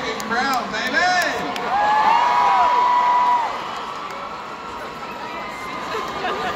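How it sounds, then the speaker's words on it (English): A large crowd at a hometown holiday event roars and cheers, with whoops and high shouting voices rising over the din. The noise swells midway, then settles into a steady, close, busy murmur. "Look at this freaking crowd, baby!"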